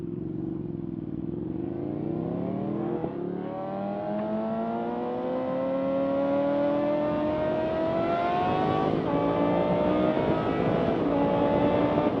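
A sportbike engine, a Suzuki GSXR 750 or Ducati Panigale 959, revs up steadily and loudly with rising pitch, heard close and continuous alone with no talking, on a sportbike tour from Yorkshire to Spain.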